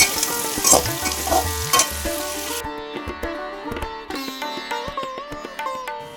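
Potatoes fry in a pan with a bright sizzle and scraping stir strokes early on, then background music with clear melodic notes takes over while the frying fades.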